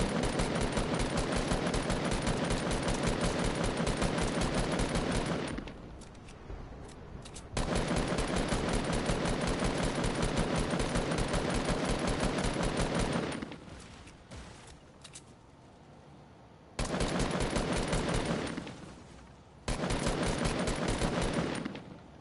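Video game gunfire shooting down a wooden structure: long sustained bursts of rapid automatic fire, loud and close, broken by a few short pauses, with no talking.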